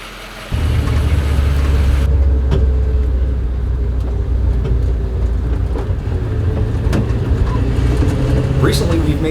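A Suzuki Samurai fitted with a Spartan rear locker drives along a street, its engine starting up and holding a steady, close mid-pitched hum with road noise and a few light clunks.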